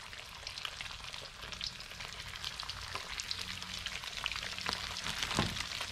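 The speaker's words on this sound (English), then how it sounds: "And it is cooking. We're cooking with grease now, baby." Crappie fillets frying in hot grease give a dense, continuous crackling sizzle like steady rain, close and fairly even throughout, with no voices.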